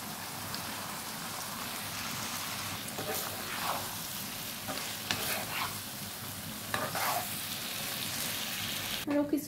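Radish being sautéed in a pan for a fish curry crackles in a continuous rain-like sizzle, broken by repeated stirring scrapes, with a sharp knock right at the end.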